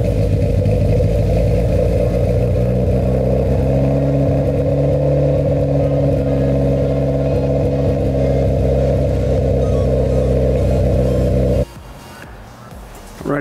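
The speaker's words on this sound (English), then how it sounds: "I'm gonna go ahead and pull out the Evo" A Mitsubishi Evo's engine runs loud and close with a steady, throaty drone, then drops away abruptly near the end as the car is driven out.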